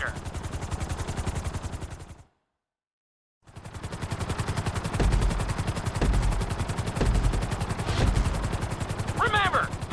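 A helicopter flies during a speed-focused flying lesson in Grand Theft Auto V, its rotor throbbing in a rapid, steady chop that drops out briefly and then returns, with a faint voice speaking underneath.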